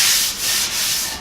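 A DA sander grinds rust off the steel hood of a Ford AA Doodlebug truck, producing a loud, close, steady abrasive hiss that swells and dips with each pass.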